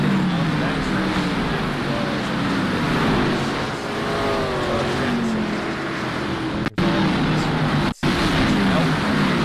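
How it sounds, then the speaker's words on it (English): Race car engines roar steadily at the Nashville Fairgrounds during a Martin Sports Racing Series 150-lap event as a car spins on the backstretch. The dense engine drone runs continuously beneath constant broadcast commentary. "Another car spinning on the backstretch."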